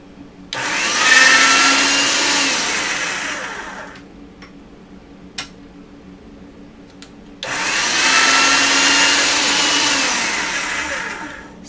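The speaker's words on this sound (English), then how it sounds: "then you get it through the pasta machine on a thin setting" An electric pasta machine rolling polymer clay to a thin sheet, a loud steady motor whir that runs for a few seconds, stops amid small clicks, then starts again.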